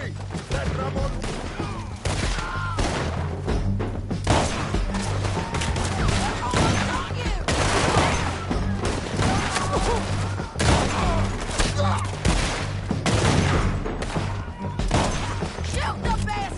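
Dense, sustained gunfire from a Red Dead Redemption 2 shootout, with overlapping shots and bursts that crack out continuously for the whole stretch. The volume stays loud throughout, and scattered shouting sits beneath the shots.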